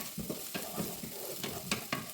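Onion and garlic sautéing together in a pan, a steady close sizzle broken by several sharp clacks and scrapes of a utensil stirring, with no talking.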